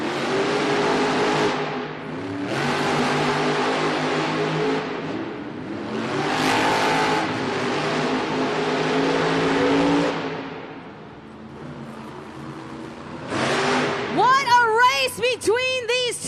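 Monster trucks revving hard side by side at the start of a JCB Racing final at a Monster Jam event in Hampton, Virginia, loud roaring engines surging in long bursts, then sharp rising whines as they launch.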